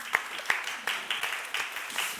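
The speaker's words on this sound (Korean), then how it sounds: "박수로 격려하겠습니다." A church congregation at a Sunday service applauds in encouragement, with claps falling into a regular, rhythmic beat of distinct sharp strikes about three per second.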